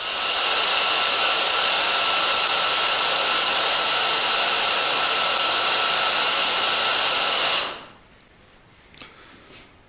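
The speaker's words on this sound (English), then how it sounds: "we'll plug it in and see if it works" Repaired hot air gun running with a loud, steady blower roar for about eight seconds, then switching off and winding down, followed by a few faint handling sounds.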